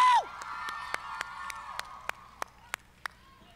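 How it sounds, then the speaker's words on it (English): A crowd at a live benefit show cheers for the band: a sharp high whoop opens, then a thin crowd murmur fades beneath steady, evenly spaced single claps. "Everyone give it one more round of applause."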